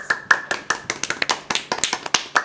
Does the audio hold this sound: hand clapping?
yes